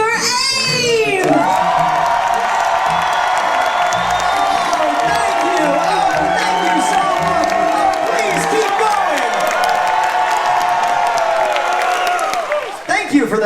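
A theatre audience on a cruise ship cheers, whoops and applauds loudly for the cruise director, a dense sustained roar of crowd noise that holds for over ten seconds before tapering off.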